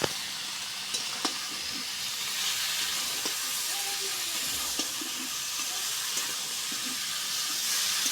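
Potato and pointed gourd fry with spices in hot oil, making a steady, close sizzle with scattered clicks and scrapes of stirring throughout.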